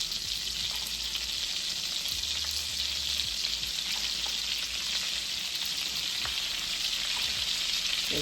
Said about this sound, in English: I'm just going to saute them real quick